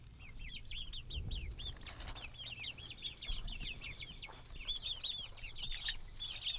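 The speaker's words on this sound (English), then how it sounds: "Wow, little chicks." A group of little chicks cheeping continuously in rapid, high-pitched peeps, close by and fairly faint, with low background rumble and occasional thumps.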